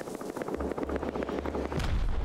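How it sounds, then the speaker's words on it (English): Rockets fired from a rocket launcher in the video game Rust, a rapid burst of sharp repeated blasts over a low rumble that swells into a heavier boom at the end, with no voices. "Is he just randomly shooting rockets towards us?"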